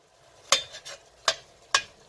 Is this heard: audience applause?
no